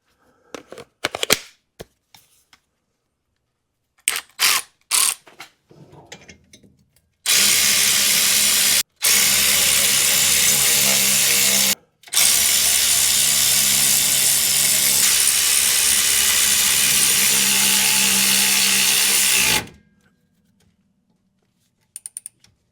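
A power tool runs on a Ford Crown Victoria axle while tightening the bearing against the axle housing, first in a few short bursts, then two long loud whirring runs broken by brief pauses before stopping.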